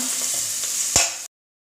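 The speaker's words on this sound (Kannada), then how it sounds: "ಈರುಳ್ಳಿ ಫ್ರೈ ಆಗ್ತಿದೆ, ಸ್ವಲ್ಪ ಇದು ಕೆಂಪು ಕಲರ್ ಬರಬೇಕು" Onions and curry leaves frying in hot oil for a spicy green chicken masala give a steady, close sizzle, with a quick stir or clatter near the end before it cuts off.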